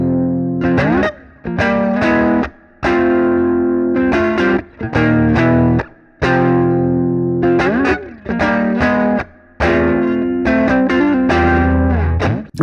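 Electric guitar played through an amp simulator with a lo-fi character, distorted chords and short phrases ringing loud and close, separated by brief pauses of silence, no talking.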